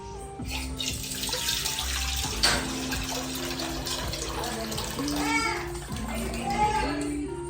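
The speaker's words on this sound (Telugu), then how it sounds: "ఈ చెరువులో కొన్ని వాటర్ పోసి వీటిని కొంచెం వేడి చేసుకోవాలన్నమాట" Water is poured into a cooking pot in a village kitchen, a steady splashing pour lasting several seconds, with voices and children talking in the background.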